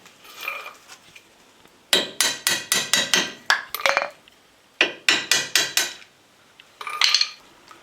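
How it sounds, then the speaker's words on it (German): A hammer strikes a thin drift punch to knock out rivets while changing a drive shaft boot on a Passat 35i, giving two bursts of rapid, ringing metallic blows close by, with a few scattered taps after them. "da könnt ihr mit dem dünnen Durchschlag die Niete lösen"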